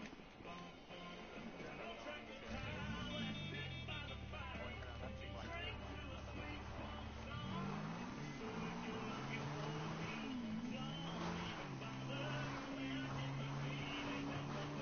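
A Sanchez dirt bike in GTA 5 revs and rides, its engine pitch climbing, holding, and shifting repeatedly over a continuous game background, with a voice talking over it.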